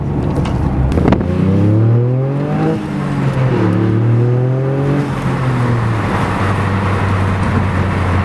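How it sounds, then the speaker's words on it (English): A Toyota GR Yaris with an XFORCE catback exhaust roars close and loud, revving up and easing off in rising and falling sweeps over a steady engine rumble. "Oh, sounds so good. I can finally hear this car."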